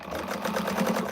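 A sewing machine stitches a Primavera quilt pattern with a steady, fast mechanical whirr and rhythmic needle pulses, close and continuous with no talking.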